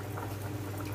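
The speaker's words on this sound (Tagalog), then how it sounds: "kumukulo na siya" A low, steady bubbling rumble of water boiling in a pot for cooking potatoes, continuous and close, with no voices.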